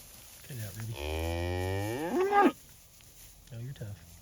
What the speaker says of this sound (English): Just came out to check on the cows, waiting for